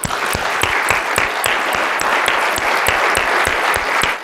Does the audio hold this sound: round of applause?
yes